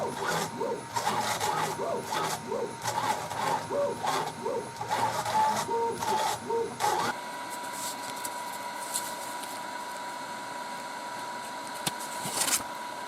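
DIY CNC router fitted with a laser module cutting paper: rhythmic mechanical stepping and whirring pulses from the moving gantry for several seconds, then a steadier hum with occasional clicks.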